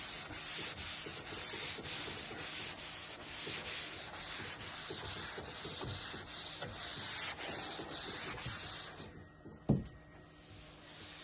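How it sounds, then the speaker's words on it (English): Hand sanding on the roof of a Toyota Starlet being prepped for primer, rhythmic close scratchy back-and-forth strokes, about two per second, ending with a knock and quiet. "that is the roofs actually sanded and ready for another coat of primer"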